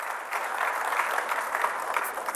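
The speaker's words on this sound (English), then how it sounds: "A big round of applause again, ladies and gentlemen." A conference audience breaks into sustained applause, a broad even roar of clapping held at a steady level from start to finish.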